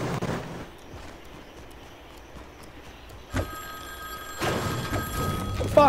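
In the video game Fortnite, an electronic telephone ring starts partway through and keeps sounding steadily alongside game noise and a few sharp in-game impacts.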